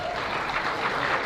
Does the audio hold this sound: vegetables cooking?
no